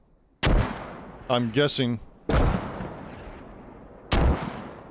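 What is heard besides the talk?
mortar fire in video game Squad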